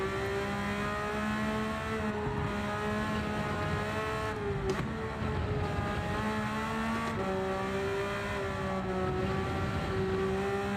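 A race car in the Gran Turismo racing game drones with a steady engine tone that dips and shifts in pitch as it brakes hard and downshifts, with continuous road and tire noise, loud and constant throughout.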